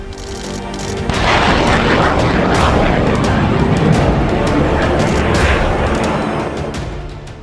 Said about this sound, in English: Within seconds, the pair of trucks are engulfed in an explosion, followed by several others.